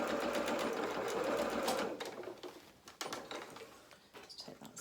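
A sewing machine stitching a curved seam runs in a close, steady whirring burst for about two seconds, then stops, leaving scattered soft clicks and handling noises.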